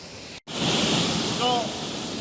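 Rushing river water roars loud and continuous through an abandoned powerhouse with internal falls, a dense broadband wash after a brief cut, with faint tonal squeaks briefly audible above it.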